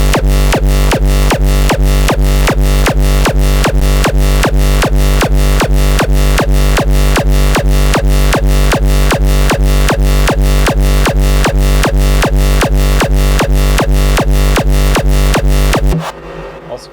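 Techy kick drum being built in music production software, a loud, punchy electronic kick repeating rapidly and evenly on a driving loop for about sixteen seconds before stopping abruptly.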